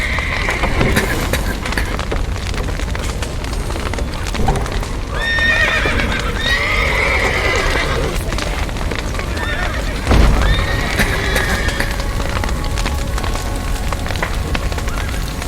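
Horses in The Witcher 3 whinny loudly over a steady clatter of hooves and crackling ambient noise, with several neighs rising out of the dense game soundscape.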